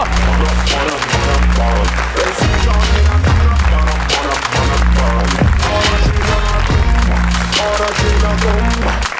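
A studio audience applauds on an Armenian TV comedy show, a steady wash of clapping that runs the whole time under loud pulsing music with a strong repeating bass beat.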